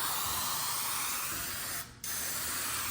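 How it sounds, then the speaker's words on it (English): An aerosol turbo can sprays sealant on a 1971 Ford F100 truck, a loud close continuous hiss with one brief pause near the end before it resumes. "So naturally, I'm gonna seal it up with some turbo cans."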